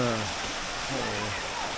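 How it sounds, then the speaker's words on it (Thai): A mountain stream flows in a steady broadband rush of water, quiet and continuous, with faint voice-like tones briefly audible underneath at the start. "แม่น้ำลำธารนี่ช่วงนี้ก็ยังไหลอยู่นะครับ"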